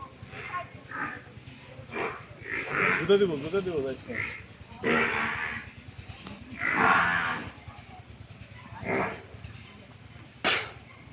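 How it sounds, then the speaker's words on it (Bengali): Cattle and buffalo in the livestock sheds of the Atroshi darbar complex moo repeatedly in long, loud, drawn-out calls spread across the clip, with a dog barking and voices faintly in the background. "সুন্দর সুন্দর মহিষ আছে, গরু আছে"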